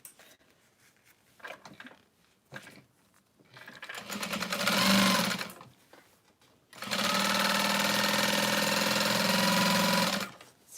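A sewing machine stitching a backpack runs in two bursts, a loud buzzing whir that starts and stops, with quiet gaps and faint sounds between.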